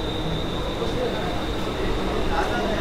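A Badlapur local train stands at Mumbai's CSMT station, giving a steady, loud rumble and hum with a thin constant whine throughout, over the murmur of a busy platform.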